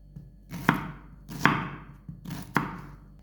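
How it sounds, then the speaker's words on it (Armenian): A knife chops through an onion on a board in three firm, evenly spaced strokes, each a crisp close thud with a short rustle after it. "Սոխն ենք կտրատում։"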